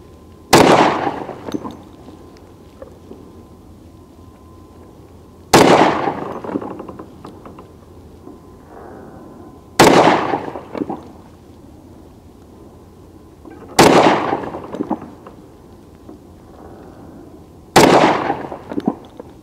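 Five loud, sharp gunshots from a Kimber Custom II 10mm Auto pistol ring out at an outdoor range, spaced about four seconds apart, each with a short echoing decay.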